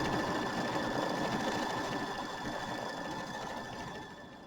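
A sewing machine stitches small looping quilting designs through a mini quilt with Hobbs batting, a steady, fast mechanical whir with a rapid needle rhythm running close and continuous throughout.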